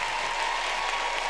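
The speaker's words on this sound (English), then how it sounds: "Applause for that." Audience applause breaks out at a televised Democratic presidential debate in Houston, Texas, a dense, steady clapping from a large crowd that holds at full strength throughout, with no voices standing out above it.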